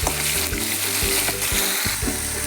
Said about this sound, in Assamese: পিঁয়াজখিনি অকণমান কেঁচা খন্দ যোৱালৈকে ভাজি ল'ম।